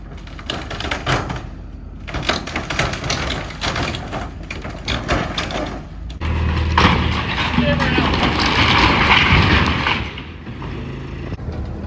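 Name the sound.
backhoe pushing down an old wooden shed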